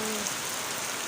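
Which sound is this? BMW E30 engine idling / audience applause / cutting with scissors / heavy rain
heavy rain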